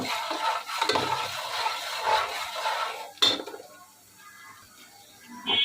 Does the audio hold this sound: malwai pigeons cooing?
no